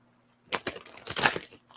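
A quick burst of papery riffling and slapping, close and crisp, as a deck of oracle cards is shuffled, then a brief faint rustle.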